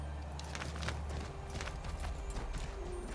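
Horse hooves clopping in the video game Assassin's Creed 3, a steady run of soft beats over a constant low rumble of ambient game sound, with no talk.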